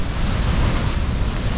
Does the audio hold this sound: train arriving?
no